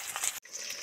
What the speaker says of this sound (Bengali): এই মাছ রাখলে যে আওয়াজটা হচ্ছে, এই আওয়াজটা হলেই জানবেন মাছটা ভাজা কমপ্লিট হয়েছে